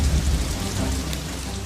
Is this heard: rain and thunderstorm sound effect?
yes